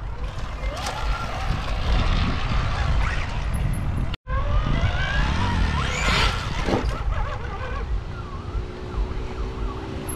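A 2023 Mecatechno Dragon Fly trials motorcycle is ridden close by, its engine revving and surging continuously for about ten seconds with a brief cut near the middle, set against loud outdoor noise.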